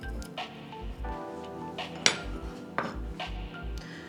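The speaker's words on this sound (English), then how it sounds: "I'm grating the ginger." Fresh ginger being grated in a kitchen, heard as a soft, rhythmic scraping with repeated low knocks and a couple of sharp metallic clinks, quiet and close, with no talking.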